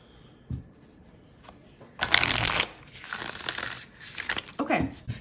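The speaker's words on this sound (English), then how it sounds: "Let's give her a shuffle." Tarot and oracle cards, an oversized deck, being shuffled by hand: a brief riffle near the start, then a loud dense burst of crisp card flutter and rustling, followed by quieter repeated shuffles close to the microphone.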